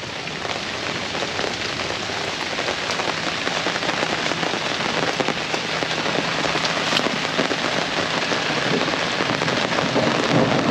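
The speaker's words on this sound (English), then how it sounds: "It's raining." Steady rain pours onto a forest campsite in a national forest, a dense continuous hiss with scattered drops pattering near the tent and awning, loud and unbroken with no voices.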